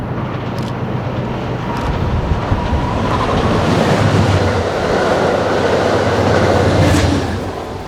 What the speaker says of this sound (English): Amtrak's westbound Empire Builder,